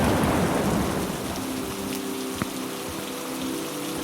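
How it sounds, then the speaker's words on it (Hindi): Rain begins falling over a village and its dry fields, a loud, continuous wash of drops with a deep thunder rumble and one sharp crack, no voices present. "धीरे धीरे बारिश शुरू हुई।"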